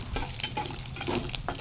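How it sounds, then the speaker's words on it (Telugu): Tempering spices and green chillies crackle and sizzle in hot oil for a tamarind rice dish, a close, loud frying hiss with irregular pops and spatters throughout. "పోపు దినుసులు, పచ్చిమిర్చి ఇవన్నీ వేగుతుంటే ఆ ఫ్లేవర్ ఉంటుంది కమ్మగా"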